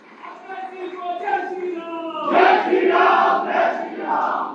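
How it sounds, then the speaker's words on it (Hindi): Crowd at a BJP foundation day event shouting and cheering in welcome, a loud swelling roar of many voices that builds and holds. "बहुत तालियों के द्वारा स्वागत, अभिनंदन।"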